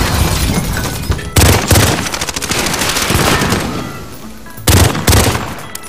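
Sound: gunfire in the video game Call of Duty

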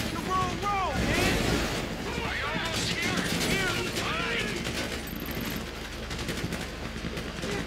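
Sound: gunfire during a heist in the video game GTA V

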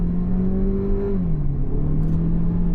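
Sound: Chery Tiggo car accelerating from a standstill

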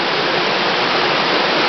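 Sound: rushing stream and small waterfall

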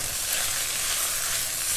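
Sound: sausage frying in a pan

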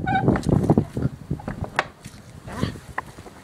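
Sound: hens clucking

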